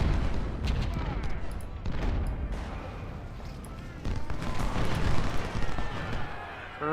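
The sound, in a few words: cannon and musket fire in video game Ultimate General: Civil War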